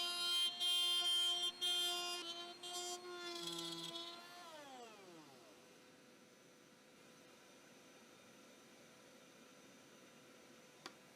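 A router bit cutting a channel through wood starts as a loud high-pitched whine, then winds down in pitch as the motor spins to a stop, leaving a faint steady hiss afterwards with no speech.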